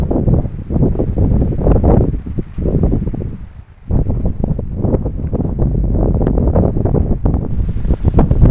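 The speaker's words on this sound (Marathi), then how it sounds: "वेगाचा वारा वाहतोय मित्रांनो, आवाज येत असेल तुम्हाला वाऱ्याचा।" Strong wind gusts across the open hilltop of Sadashivgad fort near Karad, a loud, constant roar buffeting the microphone, dipping briefly in the middle before surging back just as hard.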